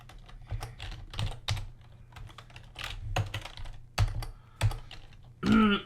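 Typing code on a computer keyboard, close clattering keystrokes in irregular bursts and short runs, ending with a brief louder tonal sound.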